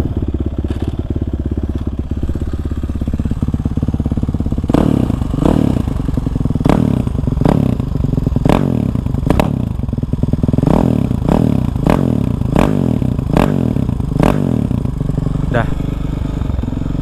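A Kawasaki KLX 450cc dirt bike engine sputters to life, then idles with repeated sharp revs in a rhythmic series, close and loud throughout.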